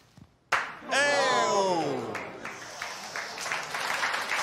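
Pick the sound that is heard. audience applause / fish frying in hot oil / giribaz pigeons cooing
audience applause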